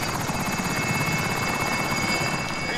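Helicopter in the Warzone video game, a steady loud rotor thrum with a rapid chopping pulse and high engine whine, continuous and close, with no talking.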